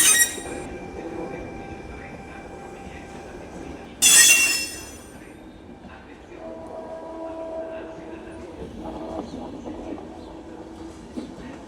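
A battery-powered train rolls into a station at the rail ferry to Sicily with a low rumble and a sharp burst of high squeal partway through, then settles into quieter mechanical hums and tones.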